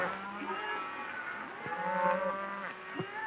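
Cattle moo several times in a 1937 film, long low drawn-out calls overlapping one another at moderate distance, with faint outdoor background noise.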